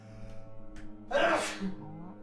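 A single sharp sneeze from a person who is sick bursts out after a short breathy intake, close and fairly loud, with quiet background hum.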